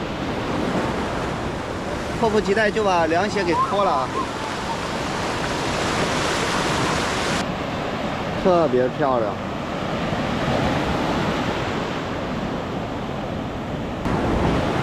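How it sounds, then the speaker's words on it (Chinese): Ocean surf washes onto a sandy beach in Hainan in a steady, full-band roar with gusts of wind on the microphone, while people talk in the foreground at intervals over the constant wash. "看一下一个沙滩，那边是海边啊"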